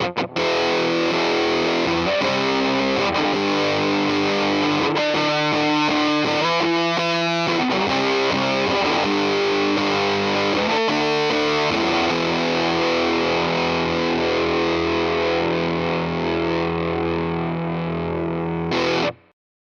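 Heavily fuzzed electric guitar through a Tone Bender-style Earthquaker Devices fuzz pedal plays chords and riffs up close, thick and saturated, ending on a long ringing chord that cuts off, with nobody talking.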